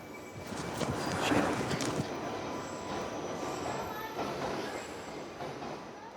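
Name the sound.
London Underground train at East Finchley station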